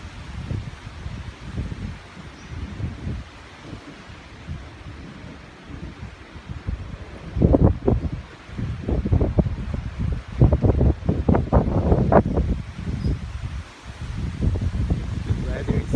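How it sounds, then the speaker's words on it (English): Strong wind gusting over the Murree hills just after a hail storm, roaring in uneven surges that grow louder midway, close and buffeting the microphone, with no speech heard. "See the wind speed."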